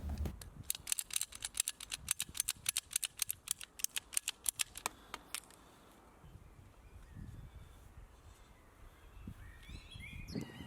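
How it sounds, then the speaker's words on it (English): Rapid, rhythmic snips of a cutter trim sprinkler pipe to length outdoors on a lawn, about thirty crisp cuts over five seconds, then quieter rustling with faint birdsong in the background. "I can trim the pipe to length and fit the unit."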